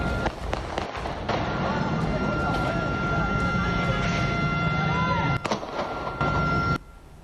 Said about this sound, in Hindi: ये जो फायरिंग हो रही है इसको आपकी आवाज़ भी सुनवाते हैं।